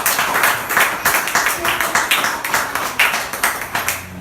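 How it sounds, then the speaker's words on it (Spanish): A church congregation applauds the Lord during a service: rhythmic, fairly close hand clapping in a steady pulse, with some talk mixed in, lasting a few seconds. "Démosle un aplauso al Señor."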